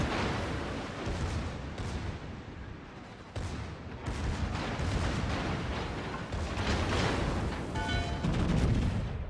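Massachusetts battleship secondary guns in World of Warships firing near and loud as a dense, continuous barrage of overlapping booms and cracks, with a few sharper reports standing out; no talking.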